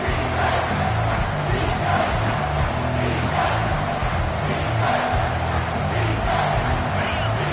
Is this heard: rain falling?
no